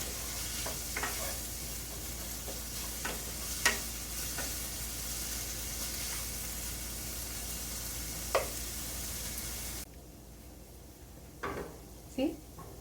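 Garlic, ginger and onion frying in a pan, a soft steady sizzle with occasional sharp clinks of a spoon against the pan; the sizzle drops quieter for the last few seconds.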